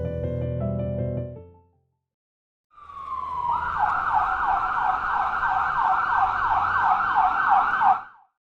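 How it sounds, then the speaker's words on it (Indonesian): After a brief burst of music and a pause, a loud ambulance siren wails with a rapid, repeating yelp pattern, close and continuous before cutting off. "terbangun oleh sirine ambulan"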